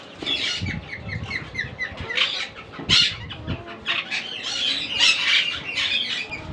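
Pet parrots, including ringneck and green quaker pairs, squawk and chatter continuously in quick, shrill, overlapping calls, close and fairly loud, with no one speaking.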